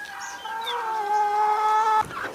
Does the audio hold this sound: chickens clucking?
yes